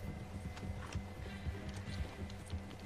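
Horse hooves gallop in the open world of Red Dead Redemption 2, a steady rhythmic clip-clop running under game ambience for the whole stretch, with no talk over it.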